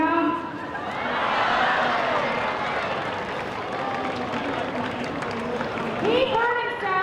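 A show audience breaks into sustained clapping and cheering, a dense wash of applause holding for several seconds while a voice speaks over it at the start and end.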